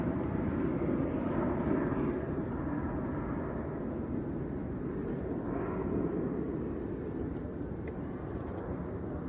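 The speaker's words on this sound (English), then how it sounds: "This is another one, another A321 Neo." A Jet2 Airbus A321neo at Manchester Airport gives a steady, broad jet-engine roar that stays fairly loud and level throughout, rising and falling only slightly.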